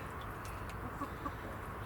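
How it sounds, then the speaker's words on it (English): Rhode Island Red and Nova Brown hens in an allotment chicken pen give a couple of soft, faint clucks at a drinking spot, heard briefly over a low, steady outdoor background. "Rhode Island Reds and Nova Browns having a drink of water there."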